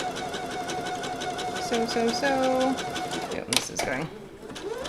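A sewing machine back stitching a T-shirt seam, a steady close mechanical whir with a brief shift in pitch as it reverses, then a snip of cutting, while a person speaks briefly over it.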